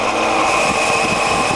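MAS VO-32 radial arm drill spindle turning at 90 RPM, a steady loud mechanical whine with constant humming tones and a faint rhythmic gear rumble underneath, no pauses.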